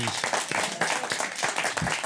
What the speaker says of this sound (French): Je vous demande donc d'applaudir Alban et Annie.